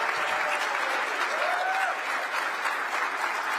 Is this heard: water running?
no